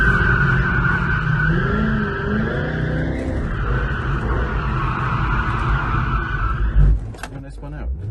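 A C5 Corvette spins a donut, its tires skidding and squealing in a loud, sustained screech over steady engine roar for about seven seconds, then the engine note drops off abruptly near the end.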